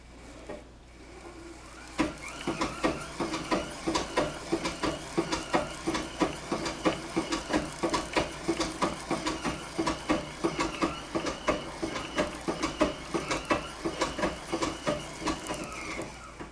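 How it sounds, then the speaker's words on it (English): Singer treadle sewing machine running steadily with a rhythmic mechanical clatter and a faint whine from its rear belt guard, continuous and close, no talking. "And that whine is specifically from that rear belt guard."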